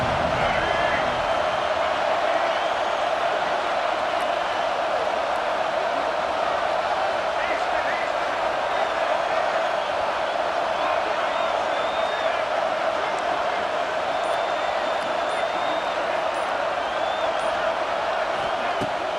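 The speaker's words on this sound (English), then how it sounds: "This crowd bringing the energy and noise early." Dense, continuous roar of a big stadium crowd at a college football game, South Carolina versus Oklahoma, cheering and whooping at a constant high level with no pauses.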